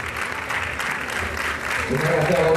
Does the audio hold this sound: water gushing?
no